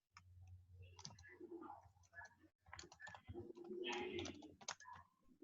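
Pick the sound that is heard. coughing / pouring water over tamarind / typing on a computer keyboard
typing on a computer keyboard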